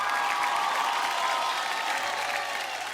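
An audience at a talent fair breaks into steady, dense applause to welcome the judges, a continuous wash of clapping heard alone.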